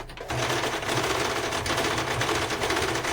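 A domestic sewing machine stitches a small fabric scrap, a close, fast, steady mechanical chatter that starts abruptly and runs continuously.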